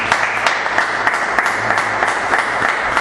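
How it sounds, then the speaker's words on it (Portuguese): Church congregation applauding to praise God, a loud, continuous crowd clapping with rapid uneven claps close by, no voices heard over it. "E que as palmas louvem a Deus."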